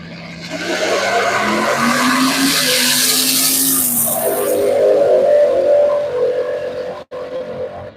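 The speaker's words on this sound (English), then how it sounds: "It's a classic Mustang versus Camaro." Classic convertible Mustang and Camaro drag racing down a strip, loud engines roaring and shifting up in pitch through the run before tires fade into a steady high whine, no talk.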